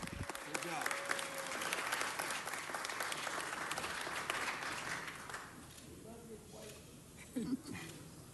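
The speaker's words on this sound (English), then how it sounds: "another round of applause for Arnie Kleiner Day in L.A." People at a Los Angeles City Council meeting give a round of applause, strong clapping that fills the room, then thins and fades away, with voices talking over it as it dies out.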